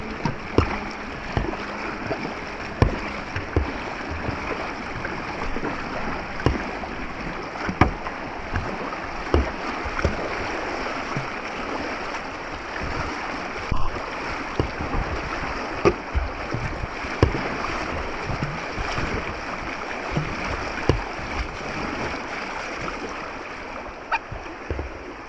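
Paddle strokes dip and splash beside a boat being ferried across the rocky, fast-flowing New River, with intermittent knocks and splashes over a constant rush of moving water.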